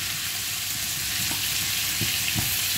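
Salsify frying in butter with thyme in a pan gives a steady, loud, dense sizzle, with a few faint stirring knocks under the continuous hiss.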